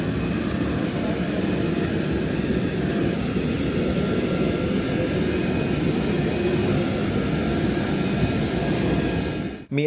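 Airplane engine droning during boarding of a short flight, a loud, constant broadband rumble with a steady whine that cuts off abruptly at the end.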